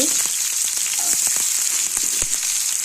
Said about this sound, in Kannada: ಒಂದೆರಡು ಒಣ ಮೆಣಸಿನ್ಕಾಯಿ ಹಸಿ ಮೆಣಸಿನ್ಕಾಯಿ ಕಡಿ ಪತ್ತ ಎಲ್ಲ ಚೆನ್ನಾಗಿ ಫ್ರೈ ಮಾಡ್ಕೊತೀನಿ